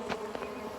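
A honeybee swarm clustered on a branch gives a dense, steady buzzing, close and continuous, with individual bees droning past.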